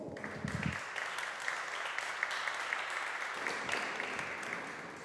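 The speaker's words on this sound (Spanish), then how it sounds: "Un aplauso, por favor." Audience applause at a panel talk on contemporary women in photography, a steady wash of many hands clapping indoors, moderately loud and continuous after a brief low thump at the start.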